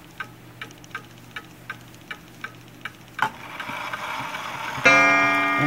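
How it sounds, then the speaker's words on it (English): A Seth Thomas Alto clock ticks steadily and crisply at close range, evenly spaced beats repeating, before a louder swell of noise and a bright ringing chime tone near the end. "However, the clock is tick-tocking."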